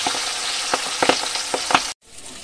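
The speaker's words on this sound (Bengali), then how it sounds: "তো মাছগুলো আমি উল্টে পাল্টে ভেজে নেব" Pieces of boal fish fry in hot oil in a close, steady sizzle broken by sharp spitting pops, ending abruptly and falling to a faint hiss.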